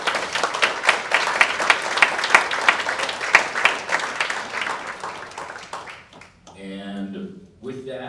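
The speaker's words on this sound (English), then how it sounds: "So ladies and gentlemen, a big round of applause for these four individuals," Audience at a North Miami mayoral candidate forum applauds the four candidates with sustained, fairly loud clapping and some cheering, fading out near the end as a voice speaks.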